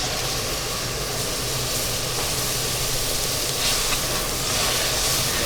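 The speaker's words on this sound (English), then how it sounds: "now let's deglaze this pan with our red wine" Red wine poured into a hot cast iron pan while making a beef stew, giving a loud, steady broadband hiss and sizzle that swells slightly toward the end, with no talking.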